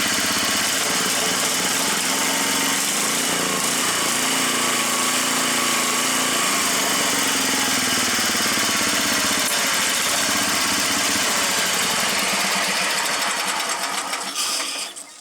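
A Sears SS14 garden tractor engine runs steadily close by, a loud, continuous buzzing drone with a fairly even idle, fresh carburetor fitted, holding constant before the sound cuts off abruptly near the end.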